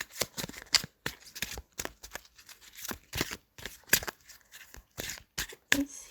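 Tarot cards being shuffled by hand in repeated quick bursts of riffling and slapping, close and fairly quiet, with short pauses between bursts and no talking.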